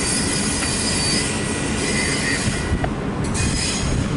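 A freight train with auto rack cars rolls past close by, its wheels squealing in a steady high screech over a heavy continuous rumble with occasional clicks, loud and unbroken.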